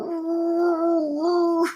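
A single wolf howl, used as a sound effect: a sustained, slightly wavering tonal cry that rises and dips over nearly two seconds, clear and close with no talk over it.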